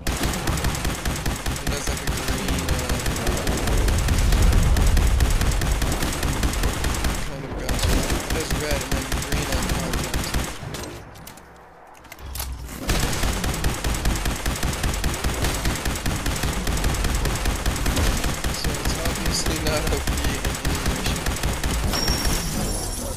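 A modded Project Plaza rifle in Fallout 4 fires long rapid automatic bursts of close, crackling shots, with a brief pause midway before sustained fire resumes.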